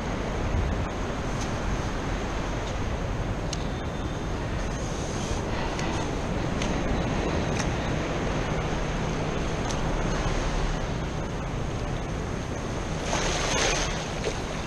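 Ocean waves on a beach while metal detecting, a constant broadband surf wash with wind buffeting the microphone, steady and fairly loud throughout, with faint short clicks and no talk.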